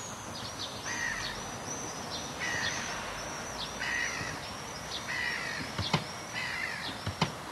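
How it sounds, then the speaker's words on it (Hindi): Crows in the horror video game Ice Scream caw in a steady series of harsh calls, about one every second, moderately distant over a soft ambient bed, with a couple of sharp clicks near the end. "कौवे कहाँ से बोल रहे हैं इसमें।"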